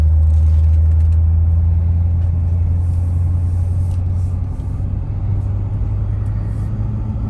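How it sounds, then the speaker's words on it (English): A 1990 Porsche 928 S4 with a Stage 3 supercharger cruising on a cold engine, giving a steady deep low rumble from inside the car with constant road noise and no talking. "we're just driving down here in this 1990 928 S4"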